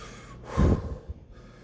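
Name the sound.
heavy breathing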